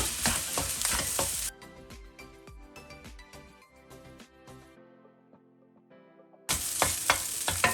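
Egg fried rice stir-fried in a wok with Chinese cooking wine, bursts of sizzling and quick stirring scrapes that cut to a quieter stretch of tinkly clatter before the loud frying returns.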